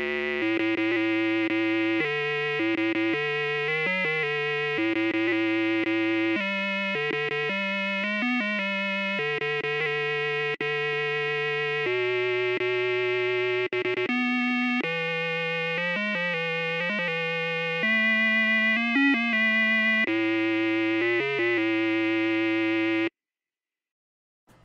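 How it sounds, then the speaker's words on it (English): Prince of Persia game music plays through the PC speaker of a Compaq Deskpro 386: a raw, buzzy square-wave melody with a jumpy rhythm and a low drone underneath, loud and continuous for over twenty seconds before stopping abruptly. "Let's hear some of those tasty PC speaker jams."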